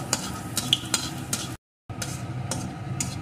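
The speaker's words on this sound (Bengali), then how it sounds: "এখন ফোড়নগুলোকে একটু লাল লাল করে ভেজে নেব।" A dried red chili and whole cumin seeds crackle in hot mustard oil, a busy close sizzle with rhythmic spatula scrapes, broken by a brief silent gap midway.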